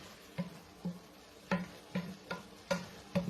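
Okra and string beans are stirred with a spoon in a pot of mixed vegetables, giving about eight soft, evenly spaced scraping knocks against the pot, close up and quiet with nobody talking.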